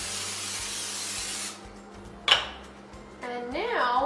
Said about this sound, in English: take a pan and spray it with some cooking spray